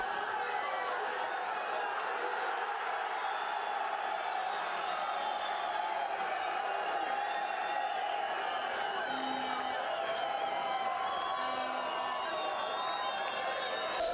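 A football stadium crowd in Kyiv region roars after a home side's late goal, a steady distant wash of cheering and chatter with faint whoops, heard from afar throughout.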